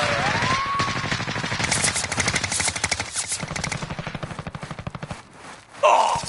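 Video game gunfire rattles in fast, regular automatic bursts close by, ending with a brief sharp sound near the end.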